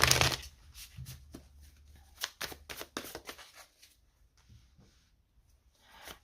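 Light Seers tarot cards riffled and shuffled up close in quick crisp bursts, pausing between flurries, quiet and with no talking.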